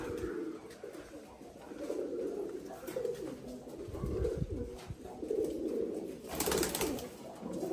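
Pigeons coo softly in a low, rolling murmur on a rooftop where feed has been scattered for them, with faint rustling and background noise throughout.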